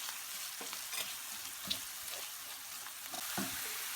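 Fried minced meat is stirred in a pan with chili flakes, black pepper and tomato paste, giving a faint, steady sizzle broken by soft scraping strokes of a spoon at irregular intervals.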